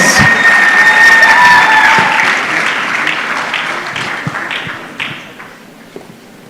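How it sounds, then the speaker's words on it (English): An audience applauds at a national research festival award ceremony in Kenya, loud dense clapping at first that gradually thins out into scattered claps. "Let's give him a round of applause."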